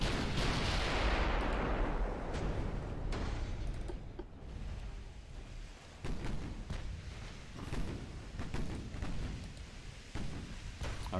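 Big naval guns firing in the Ultimate Admiral: Dreadnoughts battleship game, a heavy opening boom rolling off into rumble, followed by further scattered blasts and booms of varied loudness, with no talk.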